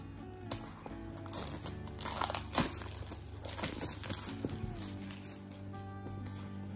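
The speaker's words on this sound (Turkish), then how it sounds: "Orijinal paketini ilk defa sizlerle açıyorum." Packaging for a Xiaomi 70mai 1S dash camera crinkles and crunches as it is opened, with close, quiet rustling and tearing sounds in irregular bursts and no clear talk.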